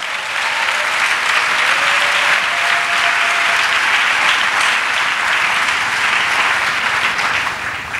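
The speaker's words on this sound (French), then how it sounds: "Let us clap for him." A church congregation applauds at a revival service, a steady, loud wash of clapping from many hands that holds evenly for the whole stretch, with no break.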